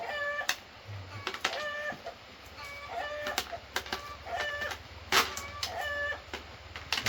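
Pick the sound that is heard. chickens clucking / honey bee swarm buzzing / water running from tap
chickens clucking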